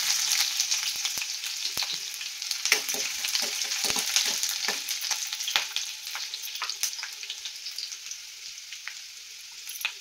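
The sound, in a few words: garlic and onion frying in oil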